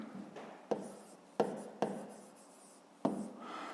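A pen scratches steadily across paper as an inequality is written out by hand for a fifth-grade maths exercise, with a few sharper taps as strokes start, close and alone.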